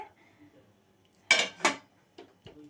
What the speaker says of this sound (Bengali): গ্যাসে একটা কড়াই বসিয়ে দিয়েছি